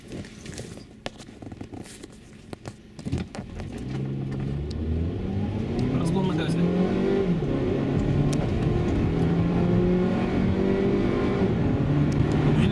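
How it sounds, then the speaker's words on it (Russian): A Mazda CX-7 2.3 turbo running on LPG gas accelerates on the road, heard from inside as the engine note climbs through rising, revving sweeps after a few seconds of quieter rustling and knocks, growing louder and sustained. "Это разгон на газе был."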